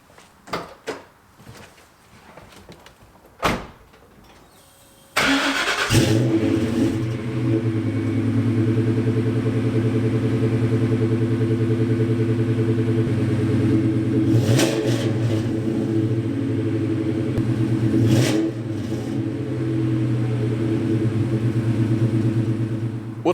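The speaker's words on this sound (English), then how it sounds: "This is a cold start on a 2002 Mustang GT with a full exhaust system." A 2002 Ford Mustang GT with a full exhaust system cold-starts: a few clicks and thumps, then the engine fires with a loud burst and settles into a deep, steady, rumbling idle with brief rev blips, close by.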